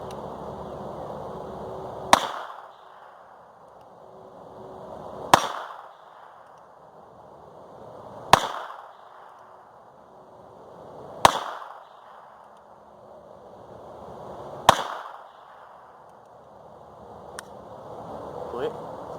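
A North American Arms .22 Long Rifle belt buckle gun fires six sharp, evenly spaced shots at steel plates outdoors, each crack followed by a short ringing decay.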